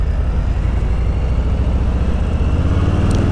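A 2019 Harley-Davidson Softail Slim motorcycle idling low after sitting for several minutes, a steady deep rumbling throb that is loud and close and continues evenly with no talk.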